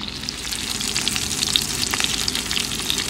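Shrimp frying in butter and oil in a pan, giving a steady, close crackling sizzle with dense pops that runs throughout with no talking.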